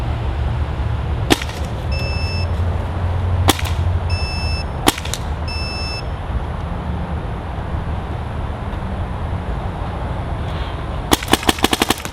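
High-pressure air gun fired over a chronograph in warm weather, with sharp isolated shots at irregular intervals and a quick burst of rapid cracks near the end, each snapping loudly above a steady hum of outdoor background noise.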